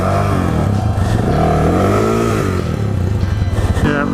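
A Kawasaki WR250R motorcycle rides along a rutted dirt track, its engine droning loud and steady with shifting revs and some clatter, while people talk over it.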